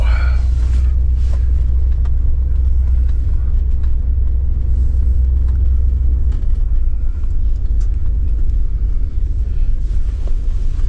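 A 1980 Cadillac Deville engine on its first start of the year, loud steady low rumble of the running engine close to the microphone, with some wind buffeting and a few clicks, no talking.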